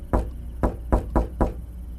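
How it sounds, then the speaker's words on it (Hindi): Five firm, loud knocks strike a door in an evenly spaced run at night, each a deep thump, heard close with no voices. "इस बार दस्तक पहले से ज्यादा तेज थी।"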